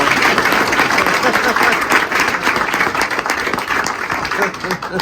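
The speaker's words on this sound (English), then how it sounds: "a little round of applause for Shawn" A baseball banquet crowd gives a round of applause for a player, loud continuous clapping from many people filling the room, with some voices mixed in.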